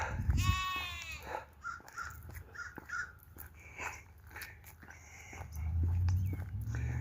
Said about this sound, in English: I forgot about these sheep.